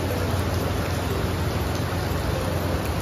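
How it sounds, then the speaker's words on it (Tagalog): Steady rain falls in Calapan, Mindoro, in the Philippines, a continuous dense hiss of drops with no break, loud and close. "Naabot na rin ang ulan sa akin dito ulit sa Calapan"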